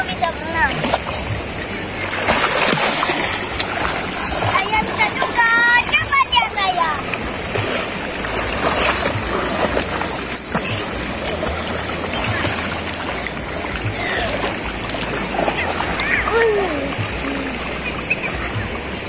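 Water splashing and sloshing as someone bathes in a sacred river at a natural bathing spot in Lubuk Jambu, Kampung Dalam, Pariaman, steady and close throughout, with people talking over it.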